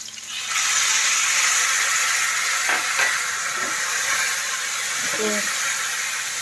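Tomato, green chili and cumin paste hitting a hot pan, a loud steady sizzling hiss with steam that jumps up early and holds throughout, with brief voices speaking over it.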